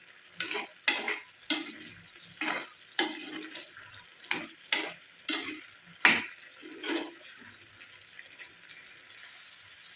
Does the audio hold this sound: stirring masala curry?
yes